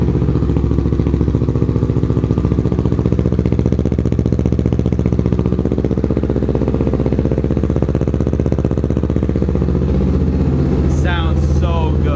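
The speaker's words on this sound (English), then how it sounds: "we're gonna go ahead and hop on the bike, and we're gonna get a first cold start here now" A Kawasaki Ninja 650 motorcycle fitted with an Akrapovic exhaust idles loudly right after a cold start, a steady close-up engine rumble throughout with a brief higher rattle near the end.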